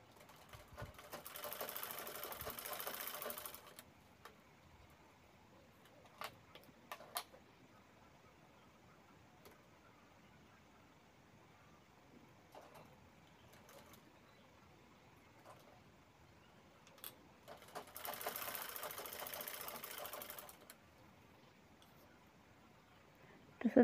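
A sewing machine stitches the corners of a fabric tote or shoulder bag, running in two distinct bursts of steady mechanical whirring separated by quiet handling clicks and rustles.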